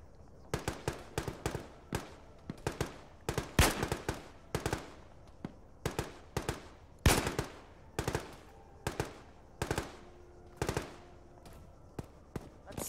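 Repeated gunfire from a weapon being ranged in during Squad, the tactical shooter, with sharp reports in short bursts and single shots spread steadily across the stretch, loud and close, no talking.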